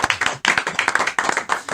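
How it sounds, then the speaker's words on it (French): A small group of people claps in short, sharp, uneven bursts nearby, a brief patter of hand claps with a slight pause partway through. "on va applaudir"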